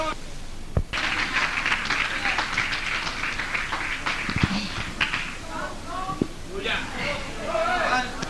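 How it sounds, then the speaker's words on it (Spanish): Church congregation applauding in praise, a dense continuous wash of clapping that starts abruptly and carries on throughout, with voices and calls mixed into the crowd noise. "Denle un aplauso al Señor."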